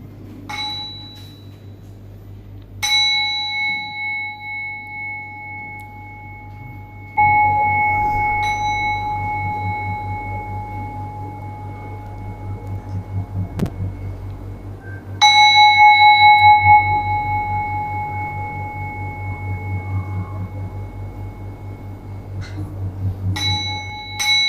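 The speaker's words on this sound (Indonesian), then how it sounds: "marilah kita menggunakan genta terlebih dahulu" A Buddhist prayer bell (genta) rung before prayer, clear bright metallic strikes in several separate bursts, each ringing on with long sustained tones, loud and close, over a faint low hum.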